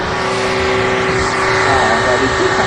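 A car accelerates hard at full throttle in an auto body shop, giving a loud, sustained engine roar that holds steady and close throughout, with people talking over it.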